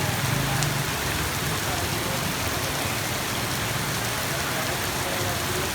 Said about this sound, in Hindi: ये देखें दोस्तों, बारिश बहुत ही कम है।